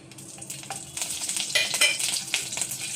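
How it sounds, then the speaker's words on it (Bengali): Ginger and green chili paste hits hot oil over whole cumin, dried red chilies and bay leaf, a sizzle that swells louder midway, with a spatula stirring and scraping the pan close by. "ফোড়নটা আমার ভাজা হয়ে গেছে, এখন আদা কাঁচা লঙ্কা বাটাটা দিয়ে দিলাম।"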